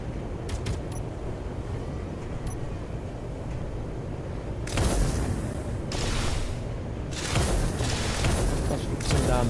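Missiles fire and explode in the Space Engineers multiplayer game, with a steady low rumble that gives way to loud broadband blasts around the middle and near the end.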